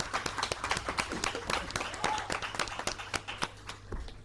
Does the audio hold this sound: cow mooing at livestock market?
no